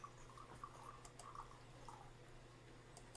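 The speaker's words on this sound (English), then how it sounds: "That's not me peeing, that's me pouring." Liquid is poured in a steady faint trickle with small dripping splashes, quiet and continuous under a low background hum.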